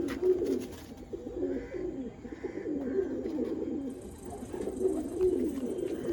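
Pigeons coo in soft repeated low throaty phrases at close range, with faint chirps and background clatter from a pigeon sale and show setting.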